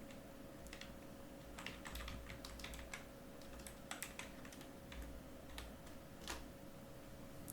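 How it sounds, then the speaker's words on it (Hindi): Quiet, irregular clicking of keys on a computer keyboard while text is typed into a Microsoft Word 2016 document, with scattered bursts of keystrokes over a faint steady hum. "अब यहाँ पर हम लोग डिटेल्स इसका टाइप करते हैं"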